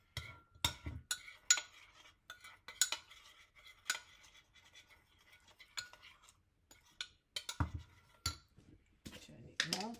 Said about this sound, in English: maybe half a teaspoon of the raw cacao powder. And then mix it up